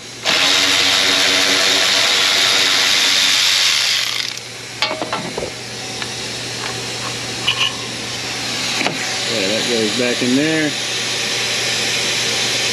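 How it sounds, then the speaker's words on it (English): A Venturi vacuum drains coolant from a 2017 Silverado 5.3, hissing loudly and steadily for about four seconds before cutting off, followed by hose and clamp handling clatter and someone speaking near the end. "It's a Venturi vacuum."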